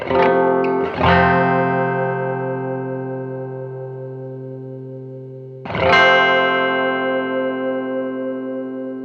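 Two bright electronic tones ring out through a delay pedal with reduced regeneration, the first with a quick stutter, each sustaining and fading slowly through a processed, echoing tail.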